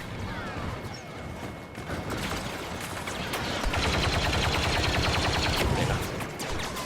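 Rapid automatic blaster fire in the Star Wars Battlefront II video game, a dense, continuous crackle of shots that grows louder and busier in the second half, with layered battle noise throughout.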